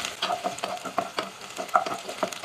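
Garlic frying in a pan until browned for pork adobo, with a light sizzle under a run of repeated scraping and tapping strokes from a utensil stirring close by, and no talking.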